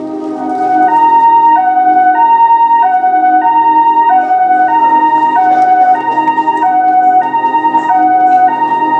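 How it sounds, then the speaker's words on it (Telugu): A loud two-tone ambulance siren wails steadily back and forth, alternating between high and low pitches throughout, close and unbroken. "బాబురావు దెబ్బతింది సార్, ఇమీడియట్లీ అంబులెన్స్ పంపించండి సార్"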